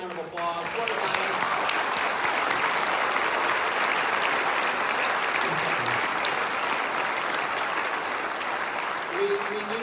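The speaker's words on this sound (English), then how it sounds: "Let's give him one more big round of applause." A large audience gives a sustained round of applause at the close of an evening conversation event with artist Everett Raymond Kinstler, dense clapping steady throughout, with brief voices and cheers audible beneath it.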